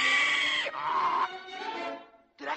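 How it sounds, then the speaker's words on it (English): Cartoon boy's laugh that turns into a donkey bray: loud, harsh, wavering braying in a few drawn-out bursts with short breaks between them, heard alone. "Hey, you laugh like a donkey."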